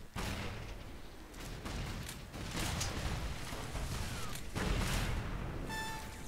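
Grenade launcher fire in the PC shooter game Loadout, with several heavy booming blasts and explosions over a dense, rumbling battle din, ending with a brief electronic tone.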